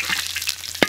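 Ginger hits a wok of plenty of hot oil in a home kitchen, giving a brief sizzling spatter and stir noise that ends in one louder burst of frying.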